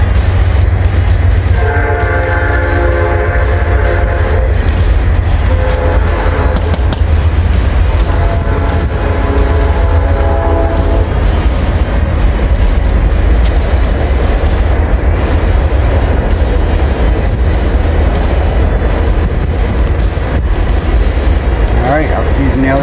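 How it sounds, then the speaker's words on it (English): A loud train rumbles past nearby, its horn sounding in two long blasts over heavy low rolling noise, with wheels clacking as it continues. "Of course, our friend the train stops by."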